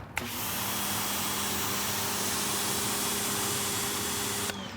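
A Ryobi pressure washer sprays at 1000 PSI through a 3.0 nozzle, making a loud, steady hiss and rush that starts abruptly, holds unbroken for about four seconds, then cuts off.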